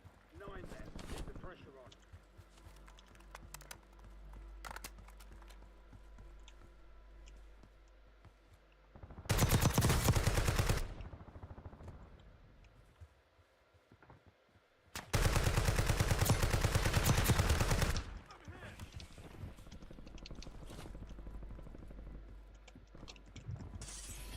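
Two loud bursts of automatic gunfire from the Call of Duty Warzone video game, each lasting a couple of seconds, break through quieter in-game ambience, with a voice talking now and then between them.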